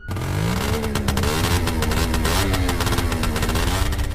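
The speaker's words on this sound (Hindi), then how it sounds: "गुल्ली काफी तेज स्कूटर चला रहा होता है" A scooter ridden fast, its engine droning steadily and loudly with a rising, revving pitch throughout, close up and without any voices over it.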